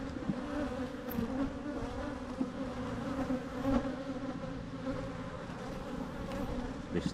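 Honey bees swarm around an opened hive during an inspection, giving a dense, continuous buzzing close by with individual bees droning past, and no voices.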